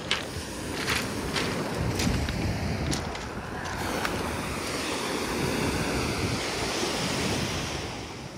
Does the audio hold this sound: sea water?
yes